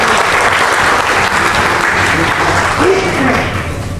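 Dense, loud audience applause at an awards ceremony and poetry open mic welcoming a guest, sustained and steady throughout before easing slightly at the end, with a faint voice briefly under it.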